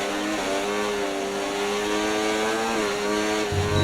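An F1 car engine in the racing game F1 24, a high sustained whine near the rev limiter, loud and steady with a slight dip in pitch while accelerating.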